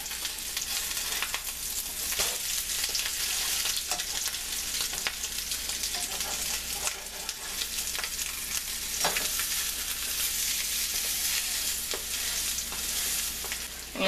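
Garam masala chickpea burgers frying in a pan, a continuous close, crackling sizzle with scattered pops and the occasional scrape as they are turned over.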